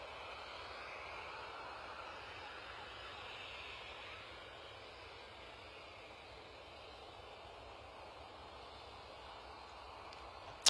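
An airliner taking off at Bristol Airport, heard as a steady, moderately distant engine roar that holds evenly throughout, with no talk over it.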